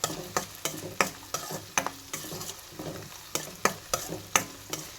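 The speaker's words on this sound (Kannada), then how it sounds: "ಇವಾಗ ಈ ಉಳ್ಳಾಗಡ್ಡಿ ಅವೆಲ್ಲ ಫುಲ್ ಸಾಫ್ಟ್ ಆಗೋ ತನಕ ಇರೋಣ್ರಿ" Onions frying in oil in a home kitchen pan, with a steady sizzle broken by sharp, regular clacks of a spoon stirring about every half second, close and fairly loud, with no talking.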